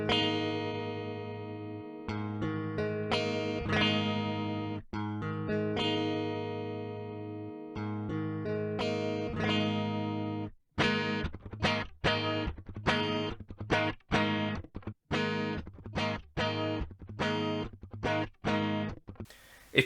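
Guitar run through an HX Effects pitch shifter in X faster mode, giving an artifacty, distorted tone: sustained chords, then a stream of short choppy stabs with gaps between them, moderately loud with no voices.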